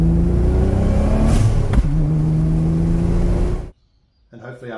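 A Nissan 300ZX V6 fitted with a Go Fast Bits hybrid blow-off valve revs loudly and close up with a droning engine tone, drops off sharply, then a brief airy release follows.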